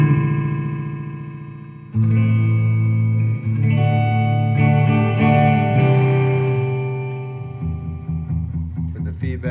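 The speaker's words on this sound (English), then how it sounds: "now you can turn the delay time up but turn the feedback up and you get kind of this different type of echo." Electro Harmonix Echo digital delay pedal on an electric guitar with the feedback turned up, played notes repeating in trailing echoes that build into a dense, sustained wash before thinning out, loud and close.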